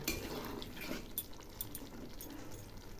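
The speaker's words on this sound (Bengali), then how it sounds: "একটু জল দিলাম একটু নেড়ে দিচ্ছি" A pot of jackfruit curry being stirred just after water is added, with spoon scrapes and clinks against the pot over a steady low bubbling and wet sloshing, close and moderately loud.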